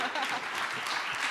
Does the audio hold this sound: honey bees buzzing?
no